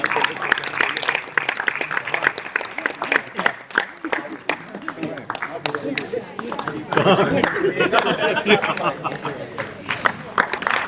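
An audience applauds at a storytelling show, a dense, steady patter of many hands that runs for about eleven seconds. Crowd chatter and voices mix in throughout, and the applause swells louder near the end.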